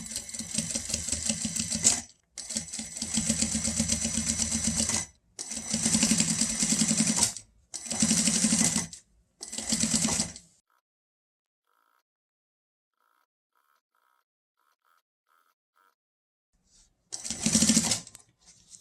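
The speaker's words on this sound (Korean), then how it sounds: "여기 직선 부분 끝나는 여기서부터 이렇게 뭐 한 2mm 정도로 상침을 해서" A sewing machine topstitching about 2 mm from the edge of a fabric sleep mask, running in several loud bursts of rapid stitching separated by short pauses, then a long quiet gap before one last short run.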